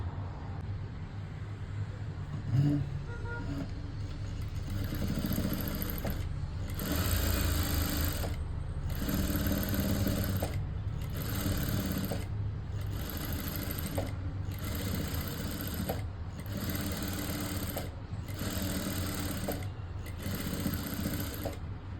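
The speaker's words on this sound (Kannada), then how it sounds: "ಈಗ ಮತ್ತೆ ನಾನು ಮಾಡ್ತೀನಿ ಇದನ್ನು ಕ್ಲೀನಾಗಿ ಸ್ಟಿಚ್ ಹಾಕ್ತೀನಿ" Sewing machine stitching thread piping on a lined blouse front, rhythmic bursts of fast mechanical chattering repeating about every two seconds with brief pauses, close, under a low background hum.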